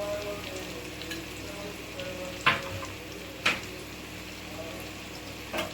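Paneer frying in a pan with salt and pepper, a quiet continuous sizzle with a few sharp scraping knocks of a spoon stirring, close and alone.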